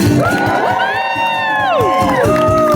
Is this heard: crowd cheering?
yes